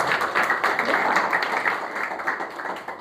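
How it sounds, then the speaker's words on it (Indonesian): A church congregation claps together for God during an Indonesian sermon, a dense, steady wash of close hand claps filling the room for a few seconds with no voices over it. "Beri tepuk tangan terbaik buat Tuhan."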